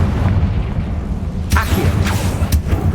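Confringo blasting spell explosions in Hogwarts Legacy, a couple of sharp booming bursts around the middle and near the end over a steady rumbling game background.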